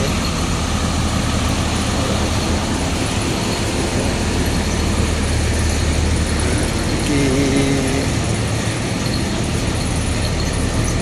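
Buses idle and move at the Sunan Drajat bus terminal in daytime, a dense, steady engine rumble and traffic noise filling the whole stretch, close and loud, with faint voices mixed in.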